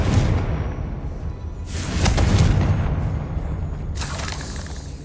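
Confringo blasting spell in Hogwarts Legacy, two loud booming explosions with whooshing bursts a couple of seconds apart, rumbling between them and trailing off.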